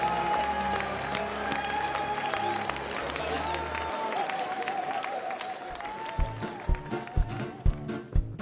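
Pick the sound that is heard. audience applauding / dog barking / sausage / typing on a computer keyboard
audience applauding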